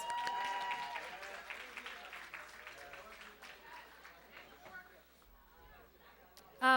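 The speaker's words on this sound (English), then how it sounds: "Round of applause." Applause from an audience at a 20th anniversary celebration event, moderately loud at first and tapering off over several seconds, with cheering voices and crowd chatter mixed in.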